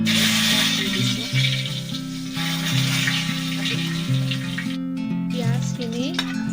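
Cumin seeds and dried chillies sizzle in a little hot oil in a wok, a loud, continuous close-up crackle with stirring, while background music plays underneath.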